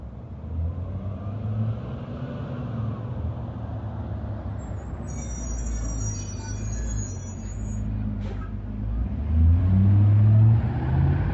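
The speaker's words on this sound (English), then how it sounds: "And then here's the school bus." A school bus rumbles past with a steady engine drone that swells louder near the end, and a brief high squeal of brakes cuts in midway.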